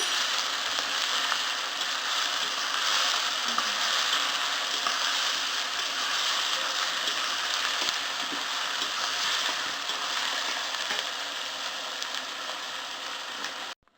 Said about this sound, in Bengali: এরপর আমি পেঁয়াজগুলো একটু ভাজা ভাজা করে নেব